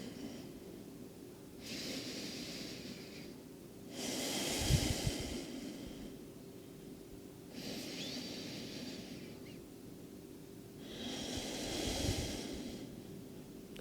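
Slow, deep breaths during a gentle winter yoga flow: three long airy inhale-exhale swells spaced a few seconds apart, close and soft, with no talking.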